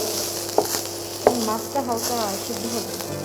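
Taki fish sizzle as they fry in a pan, a continuous close crackle with a couple of sharp utensil clicks as the pieces are turned.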